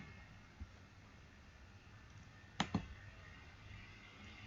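A computer mouse clicks to save settings in a testing tool: a sharp double click stands out near the end, with one fainter tap earlier, over a quiet, steady room hum.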